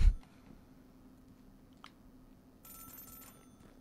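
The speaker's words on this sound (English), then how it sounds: "Telephone's ringing." A telephone rings inside the video game Celeste, one short electronic ring arriving near the end over quiet game ambience, with a faint blip a little earlier.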